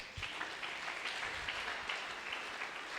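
A church congregation applauds in praise of God during a Christian worship service, a steady, dense wash of many hands clapping together throughout, with no talk over it.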